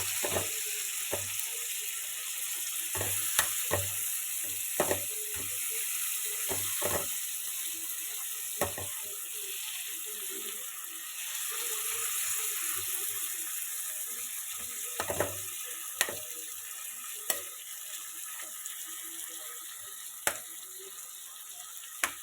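Tempering for brinjal chutney sizzles and crackles in a pan, a soft continuous fry noise punctuated by sharp pops and clicks from stirring, with no talking.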